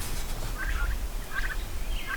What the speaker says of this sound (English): They are bronze Orlop turkeys